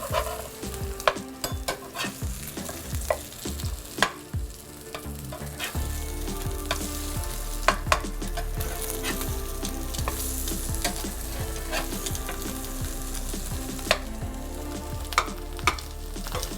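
Eggs fry in a pan with a constant loud sizzle and crackle. Scattered clicks and taps of a utensil sound as the eggs are worked and flipped over medium.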